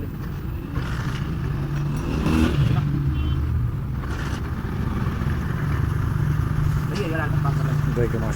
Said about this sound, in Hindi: इंजन स्टार्ट हो गया है, ऑयल भी काम कर रहा है, पंप काम कर रहा है